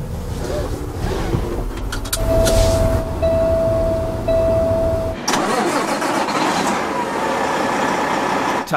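A truck engine cranks and catches, then settles into a steady, close running rumble that continues loudly to the end.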